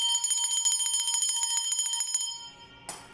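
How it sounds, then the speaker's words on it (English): A small hand bell is rung steadily in a quick, bright repeating pattern, then allowed to fade out, with a short rustle just afterward. "So ringing the bell"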